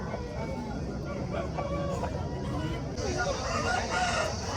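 A rooster crows nearby at a poultry market in Mydukur, over a busy background of clucking fowl and faint murmuring voices.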